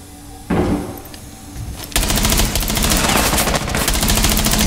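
Rapid, loud gunfire from a shotgun in the video game Rainbow Six Siege, a dense burst erupting after a brief lull and continuing as sustained, close shooting with no talk.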